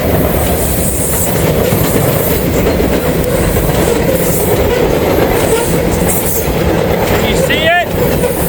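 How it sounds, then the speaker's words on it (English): A heavy grain freight train rumbles loudly and continuously across a bridge near a cemetery, with rolling wheel clatter, a steady roar close by and a brief wheel squeal near the end. "It's a big old heavy grain train too, man. He's making that bridge go up and down."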